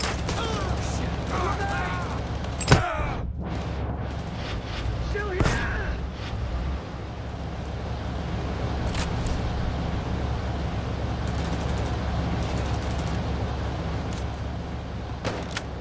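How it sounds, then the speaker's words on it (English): Sniper gunfire in PayDay 3: two sharp, loud cracks a few seconds apart stand out over a constant low roar of game noise, with people talking throughout. "James, the sniper's shooting you, buddy."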